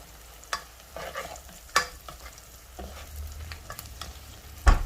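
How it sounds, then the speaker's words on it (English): Mushrooms fry in a pan while a spoon stirs them, with a low sizzle broken by several sharp scraping knocks against the pan, close and without talk. "we're going to add all our mushrooms into the pan and give that a stir"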